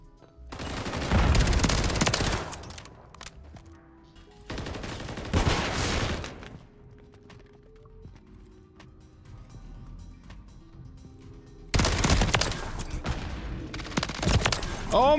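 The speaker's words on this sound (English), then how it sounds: "It's in the battle pass, new SMG" A new small SMG fires in a video game in three loud bursts of rapid automatic gunfire, each lasting a second or two, with quieter game ambience between them.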